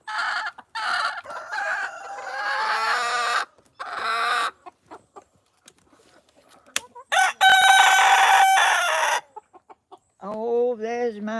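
A small backyard chicken flock clucks and calls in bursts, with loud, close hen vocalizations broken by short quiet gaps and a higher squawking call near the end.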